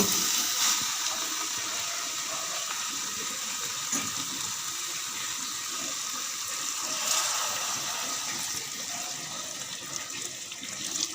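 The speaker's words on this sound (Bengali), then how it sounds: "এক কাপের একটু বেশি আমি জল দিলাম" Water pours into a pot of broccoli curry on the stove, a steady soft gushing splash that runs for several seconds at moderate level.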